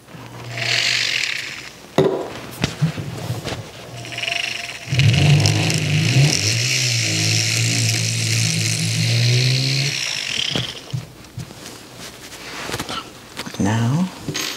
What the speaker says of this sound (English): So I'm just stepping up to the next drill bit just to remove a little bit more material.